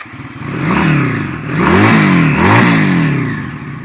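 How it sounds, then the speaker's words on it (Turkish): A water-cooled twin-cylinder Regal Raptor Daytona motorcycle engine revs up close: it rises and falls in pitch two or three times over a clattering idle, loud and alone. "Çift silindirli bir motor. Bir çalıştıralım."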